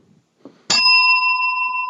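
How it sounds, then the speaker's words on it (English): A bell is struck once and knocks against a microphone, giving a sharp metallic clang that rings on in a clear, sustained tone after a brief faint shuffle. "Oh, that sounds different to your standard bell."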